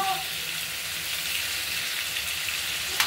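Halved, peeled pointed gourd fries in oil with turmeric in a wok, giving a steady, fine sizzle with light crackle that runs continuously, plus a brief sharp clatter near the end.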